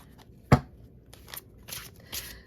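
Slippery tarot cards being shuffled by hand: one sharp riffle snap followed by several softer, scattered bursts of card flutter, close and quiet with no talking.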